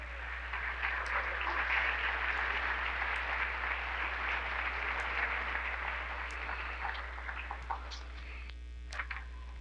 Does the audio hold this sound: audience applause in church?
yes